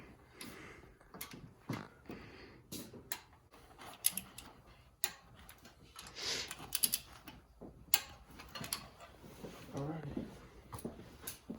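Valve lifters ticking in a Ford Mustang's 3.8L engine while it is cranked, a quick irregular run of light mechanical clicks with people talking over them.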